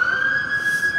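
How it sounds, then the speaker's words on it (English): A New York City emergency vehicle siren on the street, one sustained piercing electronic tone, loud and close, with faint street noise beneath it. "Yes, there's sirens every day, all the time."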